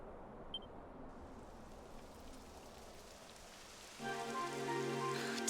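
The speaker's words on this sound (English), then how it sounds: "It would have to go and start raining, wouldn't it?" Rain falling in the video game Dragon Quest XI, a steady hiss of rainfall with a faint click near the start; partway through, a tonal layer of game music or ambience swells in over the rain.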